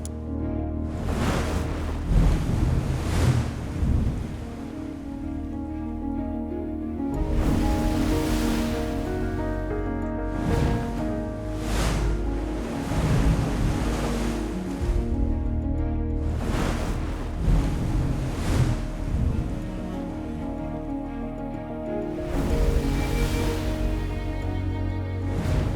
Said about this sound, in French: Le bruit des vagues devient un grondement lointain